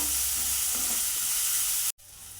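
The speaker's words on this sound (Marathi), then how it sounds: "आता आपण याच्यामध्ये घालूया आलं लसूण आणि खोबऱ्याचं वाटण कोथिंबिरीचं याला चांगलं मिनिटभर परतून घेऊया" Ginger, garlic, coconut and coriander paste sautéing in a pan for a fresh green chickpea dish: a loud, steady frying hiss close by that cuts out abruptly near the end, then resumes more quietly, no talk.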